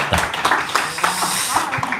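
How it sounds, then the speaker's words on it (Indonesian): An audience claps briefly in a room, a burst of scattered, uneven hand claps mixed with some voices. "kita boleh tepuk tangan dong biar semangat"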